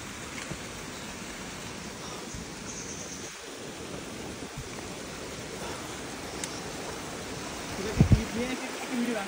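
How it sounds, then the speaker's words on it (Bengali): A small waterfall in Nepal rushes in a steady, moderately loud wash of water, with a few brief knocks and bumps near the end. "ঝর্ণা ছাড়াও কিন্তু একটা বড় ঝর্ণা আছে, বৃষ্টি আসতেছে মনে হয়, এটা ছোট ঝর্ণা"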